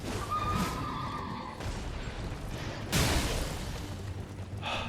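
The Black Horseman's steed in Elden Ring lets out a loud whinny, followed by a second neigh and hoof clatter amid combat whooshes and impacts.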